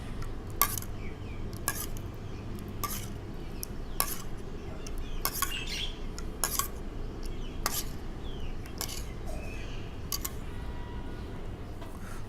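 A spoon or whisk clinks against a bowl while egg and calcium are mixed into a liquid, making sharp, evenly spaced taps over a soft, steady stirring swish.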